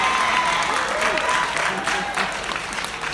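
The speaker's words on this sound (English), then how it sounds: "Can we get another round of applause for her?" Audience applause at a press conference in a downtown Marriott hotel, a steady wash of many hands clapping throughout, with some voices and a faint tone mixed in beneath.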